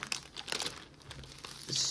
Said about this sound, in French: je vais me mettre en pause 2 minutes le temps que je déballe pour ne pas heurter vos oreilles